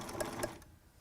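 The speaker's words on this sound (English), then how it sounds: "So I'm going to run a stitch." A sewing machine runs a short burst of stitches through a T-shirt face mask, its rapid mechanical clatter loud and close before stopping abruptly, leaving quiet.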